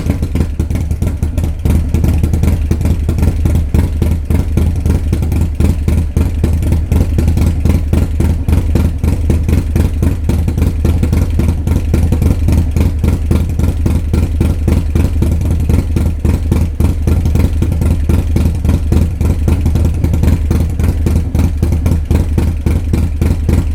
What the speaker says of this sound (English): Here is an audio clip of my bike with the Jim's A21 cam.